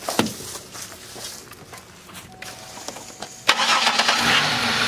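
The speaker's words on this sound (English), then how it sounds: "You don't have to turn on the vehicle." A car engine cranks and catches near the end, rising to a steady, loud idle after scattered handling noises and faint footsteps, during work to get a vehicle running again after filling it with oil.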